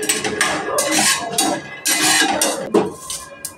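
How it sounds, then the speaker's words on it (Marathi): Peanuts being roasted in a wide kadhai, stirred with a metal spoon, giving repeated close scraping and rattling that runs steadily throughout. "इथे मी पसरट कढई घेतलेली आहे, आणि याच्यामध्ये मी आधी शेंगदाणे भाजून घेते"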